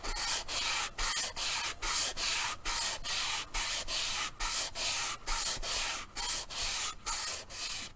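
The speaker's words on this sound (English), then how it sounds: "If I do this again, streaming when I'm sanding" Rhythmic sanding strokes rub across a 3D-printed space suit helmet, steady back-and-forth passes repeating about every half second, close and fairly loud with no talking.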